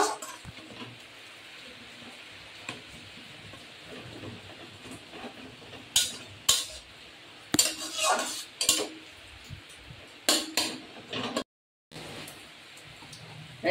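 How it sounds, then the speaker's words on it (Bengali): Spice paste with turmeric being stir-fried in a pan for khichuri, with irregular scraping and clanking of a metal spatula against the pan, some strokes sharp and loud, others faint, over a low sizzling hiss. "মশলাটা ভালো করে আমি কষিয়ে নেব"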